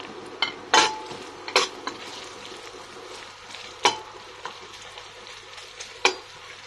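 Garlic, onion and shallot fry in a pan with a steady close sizzle, broken by several sharp clinks and scrapes of a utensil against the pan at irregular intervals.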